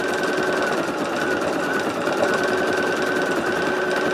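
A single-needle embroidery machine stitching, a steady, fast mechanical whir and hum that runs unbroken and fairly loud throughout, with no talk.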